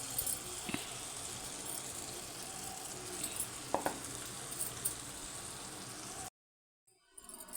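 Sweet wheat-flour punugulu fry in oil over a medium flame, giving a soft, steady sizzle with a few faint pops, then cutting to near silence at the end.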